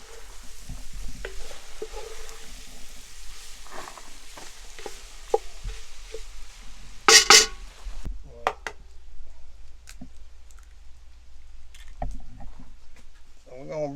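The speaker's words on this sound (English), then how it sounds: "we're going to let our potatoes cook down for a few minutes." Potatoes seasoned with Cajun seasoning fry in a pan with a steady low sizzle, broken by stirring scrapes and a few sharp clatters, while a person talks over the cooking.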